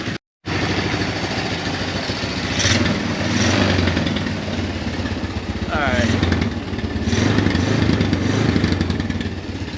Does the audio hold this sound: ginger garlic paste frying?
no